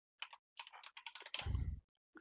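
Bursts of quick, close computer keyboard keystrokes, clicking in short irregular runs and ending in a denser clatter, with no talking.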